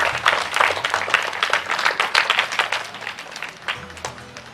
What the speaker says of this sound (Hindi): चलो सब बाकी बच्चे ताली बजाएंगे एक बार सब।